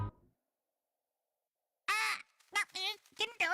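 A bird in the video game Layton's Mystery Journey gives several loud, harsh caws in quick succession after a brief sound and a stretch of silence.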